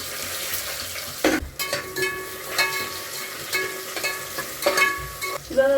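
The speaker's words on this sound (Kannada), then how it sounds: "ಒಂದು ಅರ್ಧ ನಿಮಿಷದಷ್ಟು ಈರುಳ್ಳಿನ ಫ್ರೈ ಮಾಡ್ಕೊತೀನಿ" Chopped onions fry in a pan for egg biryani, giving a close, steady sizzle with intermittent scraping and stirring knocks and no talk.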